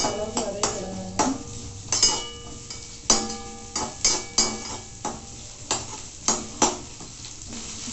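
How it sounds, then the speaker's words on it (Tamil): Pirandai (veld grape) sautéing in a pan, with a spatula scraping and clinking in regular strokes about once a second over a soft, continuous sizzle. "பிரண்டை இப்போ நல்லா வதக்கிக்கலாம். கலர் நல்லா மாற அளவுக்கு வதக்கிடுங்க."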